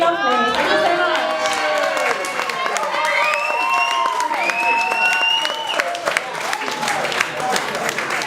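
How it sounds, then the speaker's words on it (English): A comedy night audience claps loudly and steadily throughout, with rising whoops and cheers over the dense applause. "keep the whoop and the cheering going"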